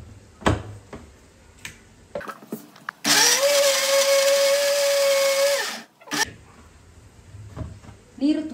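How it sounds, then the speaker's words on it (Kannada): A kitchen mixer grinder purees boiled carrots with a little water, whirring loudly and steadily for about three seconds before spinning down. Short clatters and a voice come before and after. "ಇದನ್ನು ಮಿಕ್ಸಿಗೆ ಹಾಕಿ ಫಸ್ಟು ನುಣ್ಣಗೆ ಬ್ಲೆಂಡ್ ಮಾಡ್ಕೊತಾ ಇದ್ದೀನಿ."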